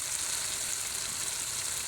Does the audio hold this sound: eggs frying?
yes